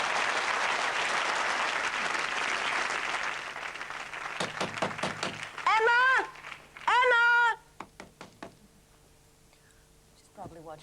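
TV studio audience applause for the 1988 Channel 4 show rolls for about four seconds, dense and steady, then fades into quiet, sparse sounds and short bursts of talking.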